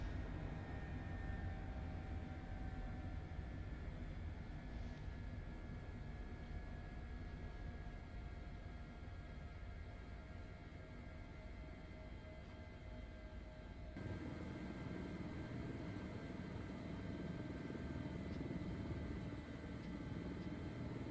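Medical rescue helicopter in Microsoft Flight Simulator sitting at flat idle after landing: a faint, steady engine hum with a thin whine, unchanging throughout and free of speech.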